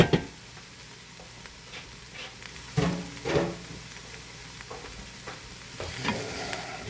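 Minced garlic stirred into sweating onions in a hot pan gives a steady soft sizzle, with a few louder scraping stirs of the spoon rising above the frying close by and no talking.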